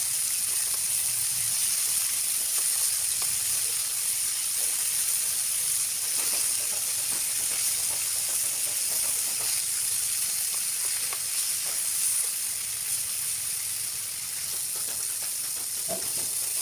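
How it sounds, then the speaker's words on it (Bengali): Tilapia fish fry in hot oil, turned over in the pan, with a constant loud hiss and crackle that carries on steadily, close up and without speech. "তেলাপিয়া মাছগুলো উল্টিয়ে পাল্টিয়ে ভেজে নিচ্ছি"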